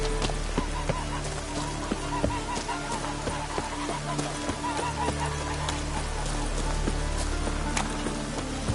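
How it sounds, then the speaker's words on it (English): Video game rain falling as a steady, even patter with faint scattered drips and a low constant hum beneath, continuous throughout, with no talk. "Raining again."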